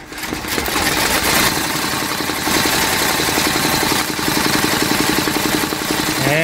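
An embroidery machine stitches 3D foam embroidery with white thread, its needle hammering in a fast, steady mechanical rhythm that runs loud and continuous throughout.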